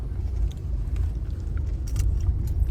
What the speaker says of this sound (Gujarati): અને અત્યારે ટ્રાફિક પણ છે.